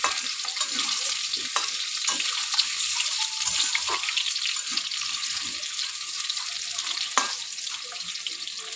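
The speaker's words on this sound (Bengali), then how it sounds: "আলুটা আমি লাল লাল করে ভেজে নেব।" Cut potatoes fry in oil tempered with dried chilli for a prawn curry, a steady close sizzle with occasional stirring scrapes and clinks throughout.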